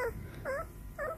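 Two-week-old arctic-type wolfdog puppies, a male and a female, whimper close by. Three short, high, whining cries come in quick succession over a low background.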